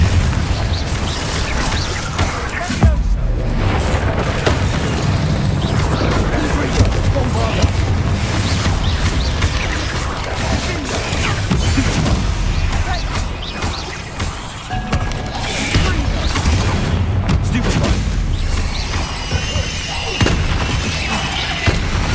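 Confringo explosive spell blasts in Hogwarts Legacy, loud booming bursts and crashes layered over dense, continuous game combat noise with a voice speaking in places.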